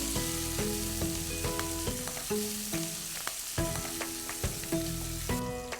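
Ripe tomatoes sautéing in a pan for mutton leg soup give a steady, close sizzle that runs throughout, under a layer of tuneful background music.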